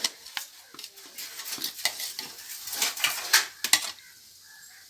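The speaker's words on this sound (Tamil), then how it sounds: "இஞ்சி பூண்டு பேஸ்ட்டு போட்டு கொஞ்சம் வதக்கியாச்சு" Ginger sautéing in a pan for chicken biryani, heard as intermittent metal scrapes and clinks of a spoon stirring against the pan over a faint sizzle, irregular and close.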